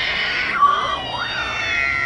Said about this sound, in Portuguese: Esse som dos gatos quando quer namorar